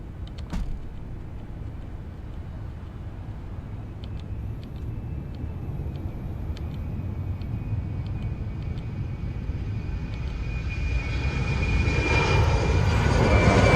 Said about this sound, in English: we can go start up our APU. Our APU should be spooling up.